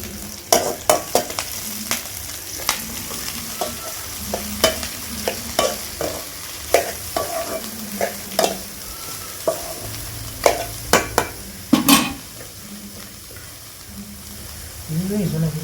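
Onion, dried red chillies and curry leaves frying in hot oil while a spoon scrapes and stirs them in a steady rhythm, with sharp clanks against the pan over a continuous sizzle.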